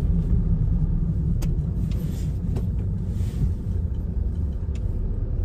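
A car in motion during a driving lesson, heard from inside the cabin: a steady, loud low rumble of engine and road noise with a few faint clicks, and no talking.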